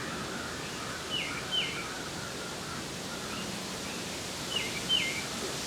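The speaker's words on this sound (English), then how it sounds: "Nice to have our bird friends with us this morning." Birds chirp outdoors on a morning, with a few short, faint calls repeating over steady background hiss and rustle.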